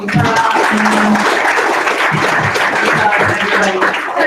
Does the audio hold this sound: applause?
yes